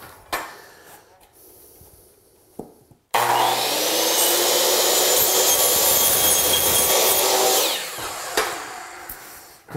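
A power saw bites into wood door and window trim, a loud sustained whining cut of about four and a half seconds that ends abruptly, with quieter handling noises before and after.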